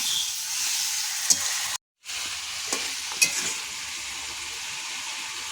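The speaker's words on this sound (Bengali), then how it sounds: "ভালো করে মাছের মাথাটা কষিয়ে নেব" Fish head being stir-fried with spices in a pan for a moong dal dish, a steady hissing sizzle with occasional scrapes and pops, close by, broken by a brief silent gap midway.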